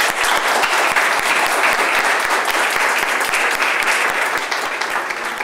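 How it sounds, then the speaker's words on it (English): Sustained applause from a large crowd welcoming a speaker at a startup event, dense and steady clapping at full volume for several seconds without pause. "we give a really big round of applause and stand up and welcome our speaker"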